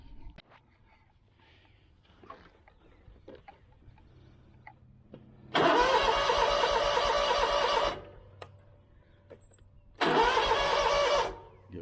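Kawasaki FX691V engine on a Scag mower cranking with the starter, two loud sustained bursts of about two seconds each after a quiet stretch of small clicks and handling noises.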